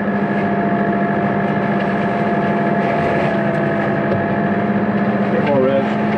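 A tractor with a hedge-cutting arm runs steadily at working revs beside a field hedge, a constant close mechanical drone with a faint whine riding over it and no pause.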